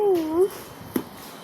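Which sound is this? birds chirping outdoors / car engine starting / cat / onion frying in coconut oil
cat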